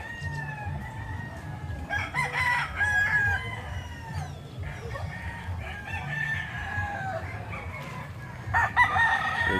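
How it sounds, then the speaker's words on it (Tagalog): Backyard farm chickens cluck repeatedly and a rooster crows, in moderate bursts at close to middle distance, with quiet surroundings between calls. "Nasa daang mga manok."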